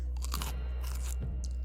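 Crunchy food being bitten and chewed, a few close, dry crunches in short bursts against a low steady hum, with no talking.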